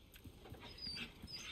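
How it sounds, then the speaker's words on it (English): A trapped wolf in Resident Evil 4 Remake whimpers faintly, a few soft high-pitched whines and yips over quiet game ambience. "Oh, that poor wolf, man."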